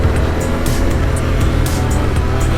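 Loud, close engine roar of a backcountry adventure motorcycle pulling away after the clutch is released, a dense steady drone with faint wind and rattling over it.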